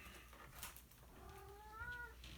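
A house cat meows once in a short rising-and-falling call, close by and moderately loud over a low background hum, with no talk.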